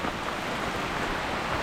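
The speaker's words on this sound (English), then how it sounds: "we're going through the pouring rain now." Heavy rain pouring down in a Costa Rican rainforest, a dense, steady hiss of close, loud downpour with no breaks and no voices.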